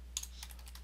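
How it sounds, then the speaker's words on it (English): A few quick keystrokes tapped on a computer keyboard while entering an email address, short clicky bursts in a quiet room. "Next, type in the address of the person sending the message."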